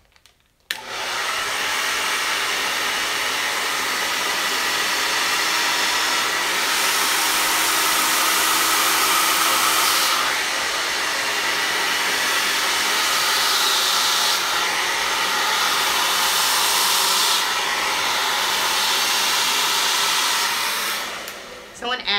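A hair dryer blows steadily and loudly for about twenty seconds in a hair-care setting, a continuous close airy roar with slight swells in intensity before it cuts off.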